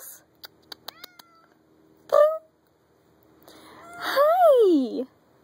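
A stray cat meows near the mic, giving a short mew and then a longer drawn-out cry, while a person speaks softly to it between faint clicks.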